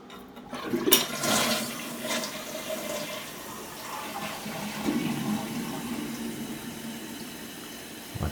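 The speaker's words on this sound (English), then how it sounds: "Looks like it did another, I guess, regular flush." A faulty toilet flushes, a loud close whoosh at the start giving way to rushing, gurgling water and the tank refilling with a steady hiss that continues to the end.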